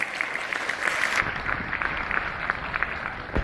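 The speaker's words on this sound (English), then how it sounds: "If we could give her a big round of applause" A big round of applause from an audience at a summer musical theatre event in Vaughan, Ontario, a steady dense wash of clapping that thins and softens partway through.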